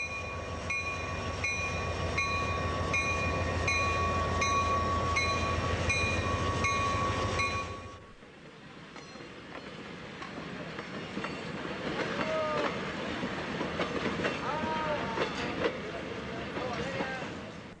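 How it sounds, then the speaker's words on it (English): A Chihuahua–Pacific (CH-P) passenger train departing a station in Mexico for Las Mochas: a loud sustained horn-like tone for about eight seconds, then rumbling rail noise with clatter and squealing wheel sounds as it rolls away. "All aboard one way or another, the train finally departs for Las Mochas."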